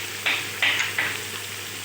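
Cumin seeds, spice paste and small pieces of liver hit hot oil for a Bengali papaya-liver chorchori, giving a low steady sizzle with three or four brief louder bursts of spitting as each addition lands.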